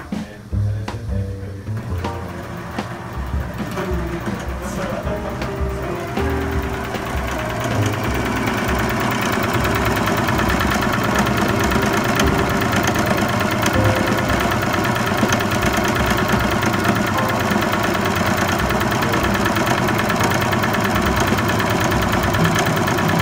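A sewing machine stitches a reusable bag made from a brewery t-shirt, back-stitching and forward-stitching at the seam ends. The motor hums steadily and close up with fast repetitive stitching, starting lighter and then running continuously and loud.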